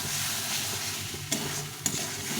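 Spice paste fries in oil with potatoes for a rohu fish curry, giving a steady, soft sizzle broken by two clear clinks of a stirring spoon.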